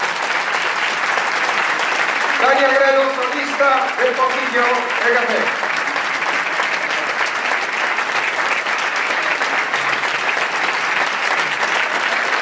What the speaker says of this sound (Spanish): Un aplauso, señoras y señores.